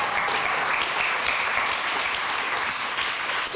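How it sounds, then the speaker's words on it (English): An audience applauds Eboo Patel with dense, steady clapping that fills the whole stretch at full strength. "Can we have a round of applause for Eboo Patel?"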